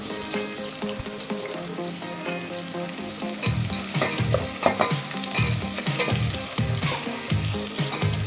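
Ingredients for bagara rice fry in a pan. A steady sizzle runs throughout, joined midway by rhythmic stirring scrapes, close up and with no talking.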